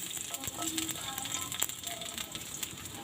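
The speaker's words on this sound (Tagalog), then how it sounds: "lagyan natin ng konting mantika ang ating kawali. Tapos, gisa natin ang bawang." Garlic sizzles steadily in a little oil in a frying pan, a soft continuous crackle with a few faint utensil ticks, close but quiet and with no voices.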